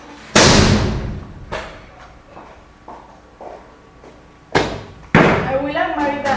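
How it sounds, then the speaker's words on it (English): A door slams hard with a sharp, loud bang, followed by smaller knocks and thuds, then two more heavy bangs near the end, with background noise in between. "And do slam the door as usual."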